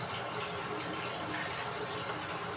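Water at a rolling boil in a cooking pot, a dense steady bubbling and hissing wash heard close up with no pauses.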